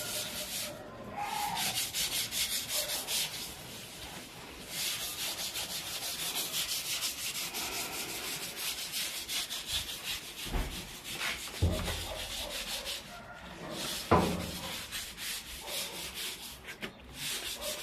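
Continuous scrubbing with a hand brush, a steady rough rubbing texture at close range with a few harder knocks and scrapes near the end, no talk.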